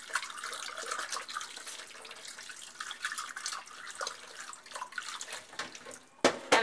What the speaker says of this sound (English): Making sure I wash it out properly